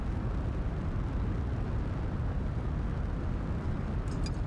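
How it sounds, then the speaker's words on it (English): Rocket launch in Kerbal Space Program 2, a steady broadband engine roar that stays loud and even throughout, with a brief faint high click near the end. "We will bounce over through the launch pad and get this thing shot into low Kerbal orbit."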